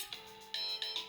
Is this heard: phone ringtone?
yes